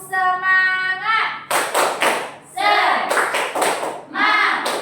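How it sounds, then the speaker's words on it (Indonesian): A class of children performs a rhythmic spirit clap in a classroom, bursts of sharp, close hand claps in quick patterned groups alternating with a teacher's voice and the children's shouted replies. "Tepuk semangat."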